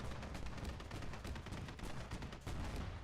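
Rapid, heavy 30mm cannon fire in a military shooter match, a dense continuous volley of loud booming shots with only a brief dip before resuming.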